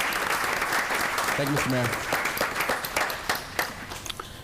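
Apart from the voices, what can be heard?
audience applause at a township council meeting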